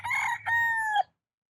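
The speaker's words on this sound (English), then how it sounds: "we also got a huge kick out of seeing all of the wild chickens and roosters" A wild rooster crows a single loud, close cock-a-doodle-doo in two bursts with a brief break, ending abruptly into silence, no talk.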